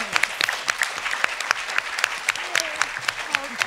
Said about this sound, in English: can we get another round of applause for these panelists